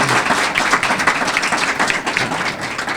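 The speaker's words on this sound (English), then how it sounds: "Can we have a round of applause for the senator?" A ceremony audience applauds a senator at a SUNY transfer agreement signing, steady dense clapping filling the room for the whole stretch with no talk over it.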